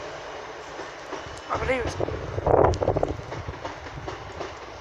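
A London Underground District line train pulls into Wimbledon station, a rising rumble of wheels on rails under a voice speaking near the microphone.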